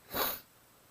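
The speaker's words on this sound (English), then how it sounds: "I feel a sneeze." A single quick sneeze, short and breathy, fairly quiet, followed by near silence.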